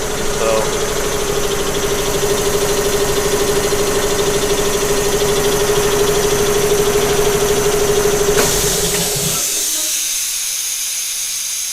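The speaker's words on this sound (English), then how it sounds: "So that is the compressor. It's powered in." A workshop air compressor runs at close range with a loud, steady mechanical hum and hiss for about nine seconds, then shuts off and leaves only quiet background.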